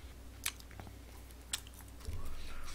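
McDonald's McNuggets from a Big Mac trio pack are eaten up close, with quiet chewing and a couple of sharp crunchy bites over a low background hum.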